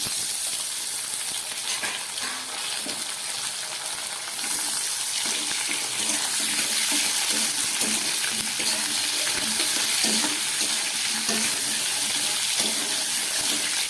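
Ridge gourd and potato frying in oil without salt or turmeric, a steady close sizzle with occasional stirring and clinks, continuous throughout with no talk.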